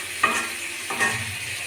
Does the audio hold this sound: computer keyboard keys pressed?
no